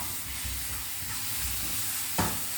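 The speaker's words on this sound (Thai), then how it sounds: "นี่ก็มาผัดให้ ให้หอมหอมครับพี่น้อง" Curry aromatics with plenty of fermented soybean are stir-fried in a pan, giving a steady close sizzle with soft scraping stirs and a brief louder burst of hiss near the end.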